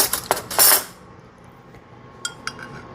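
Metal spoon stirring salsa in a glass jar: a bright burst of clinking and scraping at the start, then quieter, with a couple of light taps near the end.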